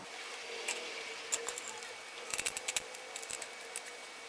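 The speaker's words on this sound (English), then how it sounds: "we'll take knife like this and we'll make a cut in the center of the fuselage" A knife cuts into a paper airplane fuselage, producing faint crisp ticks and small scratchy snips in short irregular clusters, close up against a quiet background.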